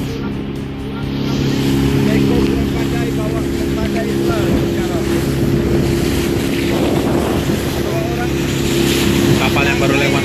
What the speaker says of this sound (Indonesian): Kapal yang baru lewat.